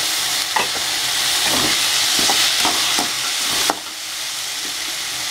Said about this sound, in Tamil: லைட்டாக சவுண்ட் எடுத்து இந்த ஸ்டேஜில் வெங்காயத்தை போட்டுக்கணும்